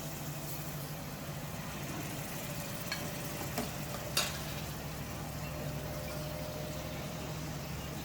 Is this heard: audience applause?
no